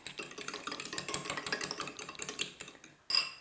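A spoon stirs a heavy cream mixture for a cream cheese tomato and veggie tart, a quick run of close, soft scraping strokes ending in a brighter clink.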